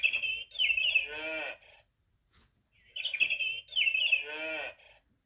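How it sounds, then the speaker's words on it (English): A recorded cow moo from an interactive sound book button plays twice, each a drawn-out, wavering bovine call with a brief electronic pause between, fairly close and clear with no talk over it. ""Moo," says the cow."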